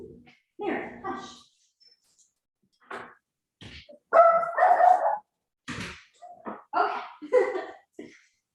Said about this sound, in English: She needed to go bark.